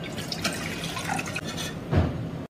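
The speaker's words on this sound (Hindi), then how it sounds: "एक कप दूध डाल दिया।" Milk pours into a bowl of ice cream mixture made with sugar, cornflour and vanilla essence, giving a close, continuous liquid splashing and trickling that swells briefly near the end, with no talking.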